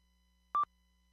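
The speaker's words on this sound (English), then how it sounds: "that's my single beep" A single short electronic beep tone, clean and steady, sounding once against near silence.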